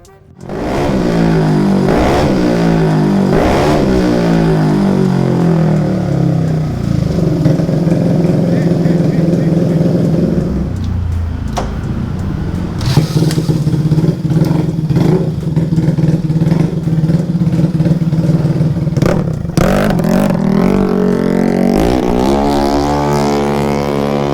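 A modified Vespa Primavera scooter engine revs hard and loud at close range. Its pitch climbs and falls through repeated throttle sweeps, with steady high-revving stretches in between, and a voice talks over the engine.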